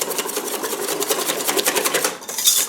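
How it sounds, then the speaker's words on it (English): A whisk beating milk and canola oil into flour for crepe batter in a bowl, giving a quick continuous scraping, rattling rhythm that sounds close and fairly loud, with no voices. "I'm going to just mix them pretty good with a whisk there to make sure we don't get any lumps"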